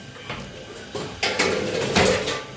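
Steel kitchen pots, pans and dishes clatter and clink close by in a home kitchen as they are handled and stacked, a few scattered knocks building into a busier jangle.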